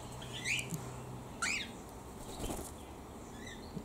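Aviary birds in a pheasant enclosure flap their wings in a few short, loud bursts, mixed with sharp squawks and chirps close by.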